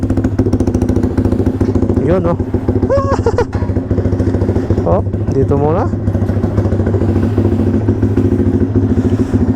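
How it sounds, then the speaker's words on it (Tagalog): Loud motorcycle with an aftermarket pipe exhaust, a steady low engine drone running throughout at close range while someone talks over it. "Grabe ang ingay ng motor na to."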